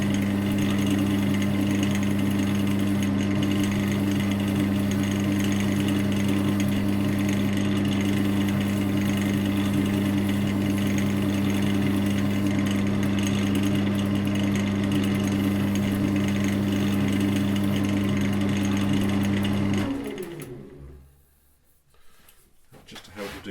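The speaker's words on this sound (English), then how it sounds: "So this time I'm going to sand back with some 2000 grit." A pen kit is sanded back with 2000 grit paper on a running lathe, giving a loud, steady motor hum with a continuous abrasive rasp that stops abruptly near the end.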